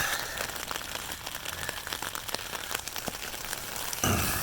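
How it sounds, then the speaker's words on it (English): Rain patters on a tent at night during winter camping in Shawnee National Forest, a dense close crackle of drops with scattered louder taps, steady throughout. "Rain started."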